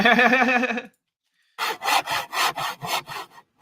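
A handsaw cuts through a block of aircrete with steady back-and-forth strokes, close and fairly loud, following a short burst of a different tonal sound and a pause.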